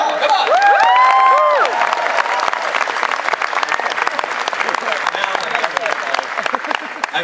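A live audience at a panel on the future of MMOs applauds and cheers for the panelists, with loud, dense clapping and whoops that carry on steadily for several seconds and fill the room.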